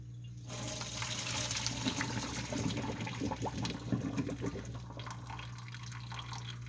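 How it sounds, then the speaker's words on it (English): Cooked noodles being drained from a pot into a sink, with a steady rush of pouring water and splashing, close and continuous for several seconds, with no talking. "So we're just going to be draining the noodles."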